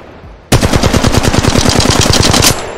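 Loud sustained burst of Flatline assault rifle fire in the video game Apex Legends, about two seconds of rapid evenly spaced shots with no talking.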